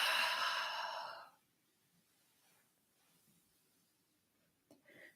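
A single long, fairly loud exhale during a breathing exercise lasts just over a second, then gives way to near silence with only faint room noise and a small soft breath near the end.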